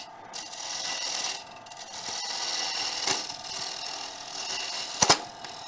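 A woodturning gouge held against a grinder gives a steady, fairly quiet abrasive hiss with faint rubbing, broken by a couple of sharp clicks near the end. Nobody speaks.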